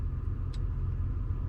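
GMC Sierra 2500HD Denali heavy-duty truck parking, heard as a low, steady engine rumble from inside the cab with one brief faint click.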